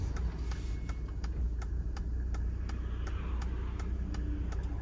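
Inside the cabin of a 1995 Mercedes-Benz E300 diesel at idle, a steady low engine hum holds constant, quiet and smooth, with a faint regular ticking throughout.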